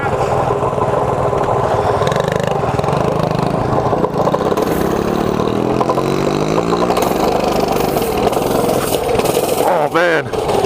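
A mini bike engine idles and revs outdoors, with rising pitch sweeps and a sharp rev near the end, under ongoing chatter and background noise.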